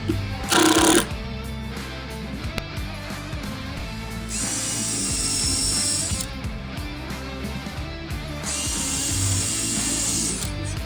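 A power drill drives screws into the wooden frame of a luggage trunk box for a Ford Model A. There is one short sharp burst at the start, then two longer whirring runs, with a steady background hum in between.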